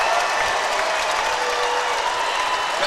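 A packed high-school basketball arena crowd roars and applauds after a slam dunk and foul in a boys Class 6 Final Four game, a loud, sustained wall of cheering with no break.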